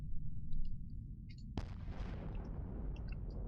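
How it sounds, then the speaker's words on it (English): Missiles launching in the space game EVE Online: a sharp, loud burst hits midway over a deep, rumbling low drone, with a few faint electronic blips before and after. "Have some bloody missiles"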